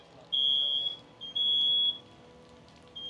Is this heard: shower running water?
no